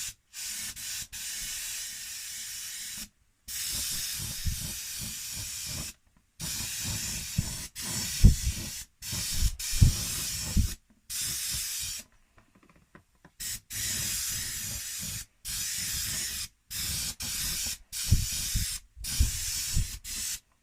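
An airbrush sprays a white backing coat onto the inside of an RC car body, giving repeated hissing bursts of a few seconds each, separated by brief silences, close and clear.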